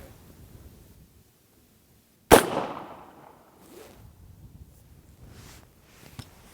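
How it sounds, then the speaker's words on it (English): A suppressed rifle with a recoil-less bolt carrier and its gas turned fully down fires one subsonic round, a sharp muffled crack with a short decaying tail, after quiet handling noises, with small clicks of movement following. "just how quiet this thing can be with the gas turned all the way down, subsonic rounds with a suppressor"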